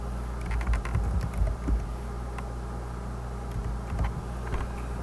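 Keys clatter on a computer keyboard as code is typed, in short quick bursts separated by pauses, close and fairly quiet over a faint background hum.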